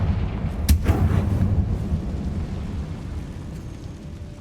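The Confringo spell in Hogwarts Legacy detonates as one sharp, loud blast that rolls off into a low rumble, with steady background noise underneath.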